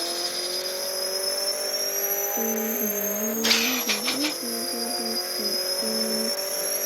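A car in a racing video game's drift mode, engine droning steadily while tires squeal in repeated short screeches and a skid flares mid-run, loud and close.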